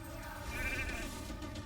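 Sheep bleating in a fantasy arena battle video game, a sustained wavering bleat over steady game music and effects, moderately loud and alone without talk.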